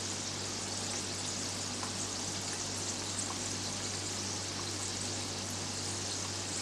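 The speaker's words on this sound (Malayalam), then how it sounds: "അത് ഫ്രൈ ചെയ്യുന്നു" Stuffed banana frying in hot oil, a steady, even sizzle with fine crackling pops held at a constant level throughout, close up and without voices.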